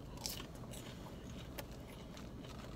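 Wendy's seasoned breakfast potatoes, peppery and crisp, bitten and chewed up close: a soft crunch at the start followed by quiet, irregular chewing and mouth sounds, with no speech.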